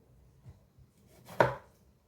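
One crisp knife chop through a tomato lands on a cutting board, close and clear, with faint soft taps before it in an otherwise quiet kitchen.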